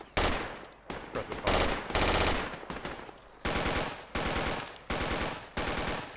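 Full-automatic gunfire in the military shooter Project Reality comes in several loud, close bursts of rapid shots with short gaps between them.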